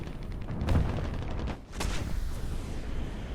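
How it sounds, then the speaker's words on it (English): An artillery strike in War Thunder lands as two sharp, loud booms about a second apart, each followed by a rumbling crackle that fades into steady battlefield noise. "Pressing for artillery fire."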